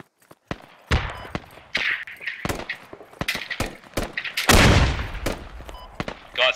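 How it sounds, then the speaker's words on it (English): Gunfire and grenade launcher rounds in the military shooter Squad: many sharp shots and several heavy blasts, one long booming impact midway, in a dense irregular barrage with no talk. "Incoming grenade launcher rounds."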